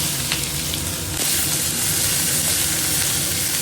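Chopped onion, ginger, garlic and chilli fry in a pan with a steady, close, dense sizzle that runs throughout, and a brief stirring scrape comes just past the first second.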